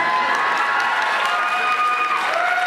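An audience at a Boston TV event breaks into applause mixed with cheering, a dense, steady wash of clapping and crowd noise that fills the short stretch without pause.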